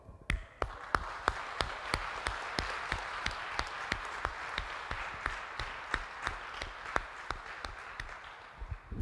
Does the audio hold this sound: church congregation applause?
yes